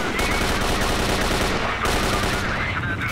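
AK rifle gunfire in Radiophobia 3: a sustained, loud, rapid automatic burst with tightly spaced shots, a short break, then firing resumes without voices.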